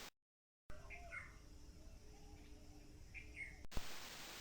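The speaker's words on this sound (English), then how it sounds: "These tuneful black and white birds are called magpie robins." A magpie robin, a tuneful black-and-white garden bird, gives a few short, fairly faint chirping phrases over a soft, steady outdoor background.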